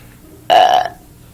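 A person vocally imitates a burp with one loud, drawn-out belch of about half a second, heard close and alone between bits of playful talk.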